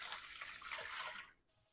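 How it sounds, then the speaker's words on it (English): Warm water is poured into a baking pan to make a water bath for flan: a close, steady splashing pour lasting about a second, then tapering to a quieter trickle, with no talking. "I'm going to go ahead and pour that water into this pan."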